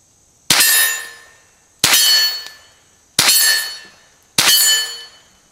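Four sharp metallic cracks from a Henry AR7 survival rifle, evenly spaced about a second and a quarter apart, each with a bright ringing tail that decays before the next shot.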